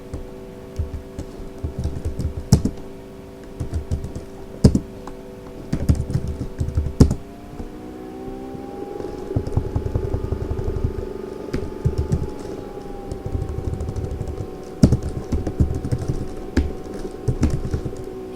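Keys clatter on a computer keyboard as a command is typed into an Ubuntu terminal, steady irregular tapping running throughout over a low hum.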